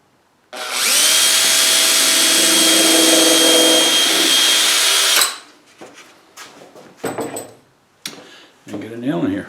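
A power drill bores into wood on a marked spot, a loud continuous whir lasting about five seconds, followed by scattered knocks and handling clatter.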